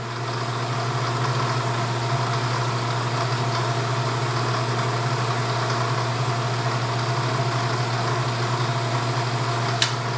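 A machine runs at slow RPM while feeding down, giving off a steady, even mechanical hum with a constant tone, close and unchanging for about ten seconds.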